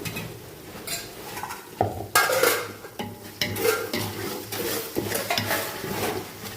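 Ground ginger paste and masala frying in a pan for chicken dum biryani, with repeated spoon scrapes and stirring clatter over a soft sizzle.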